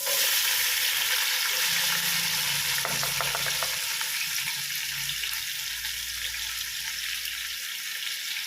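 Onions going into hot oil in a pan, a loud continuous frying hiss with a burst of crackling and a brief clatter as they land, then a settled steady sizzle.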